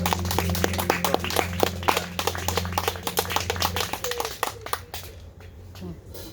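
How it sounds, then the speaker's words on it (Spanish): A church congregation claps together in a lively burst of applause mixed with voices, with a low sustained instrumental tone underneath that cuts out partway, after which the clapping thins and fades. "¿Por qué no le damos un fuerte aplauso al Señor?"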